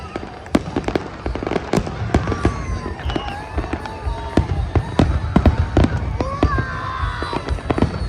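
Fireworks launched from ships at sea, a rapid series of sharp bangs and crackling bursts with whistling rising shells, some near and loud, others more distant, continuing over a murmuring crowd.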